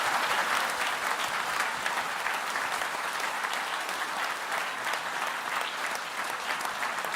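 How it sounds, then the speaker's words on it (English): Sustained audience applause at an awards ceremony for contestants in a song competition, a dense, steady wash of many hands clapping throughout, fairly distant and even in level. "Everyone, please give them a square of applause."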